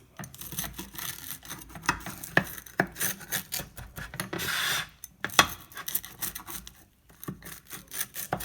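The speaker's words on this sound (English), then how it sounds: "we're just going to take our pizza cutter, and we're just going to cut it into triangles." A pizza cutter rolls and rasps through a vegan quesadilla, slicing it into triangles with repeated scraping strokes against the board, fairly close and clear, with no talking.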